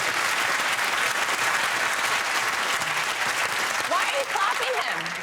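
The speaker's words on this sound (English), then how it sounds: "Why are you clapping" A studio audience at a comedy panel show claps in sustained, dense applause that stays steady and full throughout, with a voice breaking through briefly near the end.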